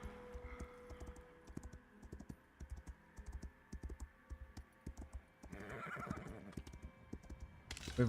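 A horse in a video game whinnies clearly, with a steady clip-clop of hooves and scattered computer keyboard typing throughout, ending in a louder burst of neighing.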